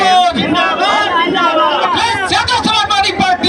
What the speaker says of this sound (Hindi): भीड़ देख सकते हैं कितनी सारी भीड़ है यहाँ